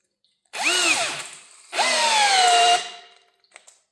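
Parkside Performance and Ingco cordless drills, rated 60 Nm and 55 Nm, drive a 6 x 120 screw in second gear. Two loud whirring bursts rise and fall in pitch as each motor labors under load, with a short pause between them and no talking.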